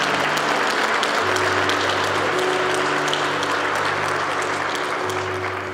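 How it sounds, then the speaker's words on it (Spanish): A church congregation applauds during a worship service, giving sustained, loud, dense clapping that carries on evenly over a low steady hum and fades slightly toward the end. "Dele un aplauso al Señor."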